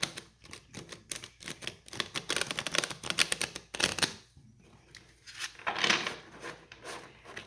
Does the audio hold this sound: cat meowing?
no